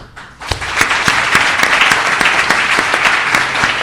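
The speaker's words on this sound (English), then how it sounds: "And a round of applause, please." A conference audience at a talk on ethical careers breaks into applause, starting abruptly and then holding as dense, loud, even clapping with some distinct nearby claps.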